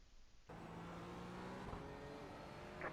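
A GT4 race car passes alongside in iRacing during a four-hour endurance race. The engine note swells suddenly and holds as a steady drone, with a faint whir and a small clunk near the end.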